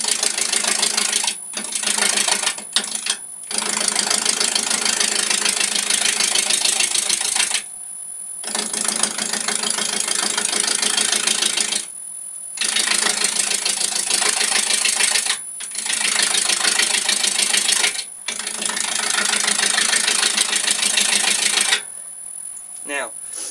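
A wood lathe runs during woodturning, its broadband whirring and cutting noise coming in long bursts broken by short pauses, with a person talking at times.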